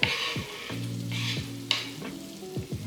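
Andouille sausage for a seafood gumbo hits the hot pot and sizzles and crackles continuously, stirred now and then, loud and close, while a voice hums or speaks melodically over the frying.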